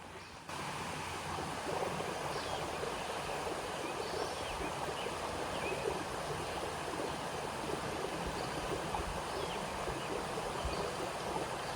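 A stream flows steadily at a state park in West Virginia, a continuous close rushing and burbling of water that goes on unbroken with no voices.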